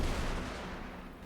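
Gunfire and artillery from a Total War: Fall of the Samurai battle at Bizen Fields, a dense, continuous roar of rifle volleys and cannon blasts, loud and close, with no voices.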